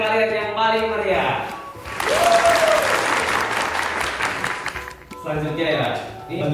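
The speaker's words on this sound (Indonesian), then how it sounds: "saya mau mendengarkan tepuk tangan kalian yang paling meriah." Applause from an audience at an MC school session in Surabaya swells up loudly between stretches of talk, holding steady for a few seconds before fading as voices return.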